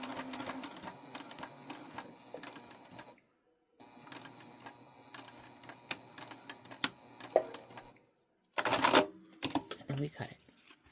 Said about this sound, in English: Do a lock-in stitch